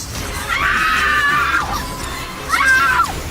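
Two long, anguished screams of parents in pain ring out in an audiobook horror scene, the first sustained for about a second, the second shorter after a brief pause, loud over a constant low background.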